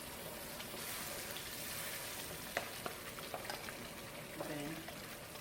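Fresh tomatoes poured into a sizzling stew sauce in a pan, giving a steady frying hiss with a few soft splashes and bubbling.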